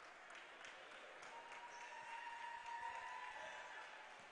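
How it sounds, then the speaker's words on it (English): A crowd at a women's college basketball game between Lower Columbia College and Centralia College gives a soft, sustained round of applause, heard faint and at a distance throughout. "She gets an ovation from the crowd"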